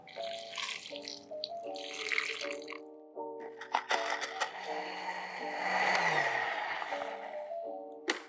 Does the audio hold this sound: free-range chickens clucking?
no